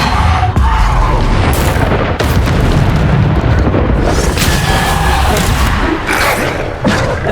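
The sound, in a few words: spell blasts and explosions in video game Hogwarts Legacy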